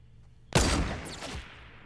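A burst of gunfire in Fortnite Battle Royale: an abrupt loud blast that rings out into a dense, decaying rattle lasting over a second, with no talk.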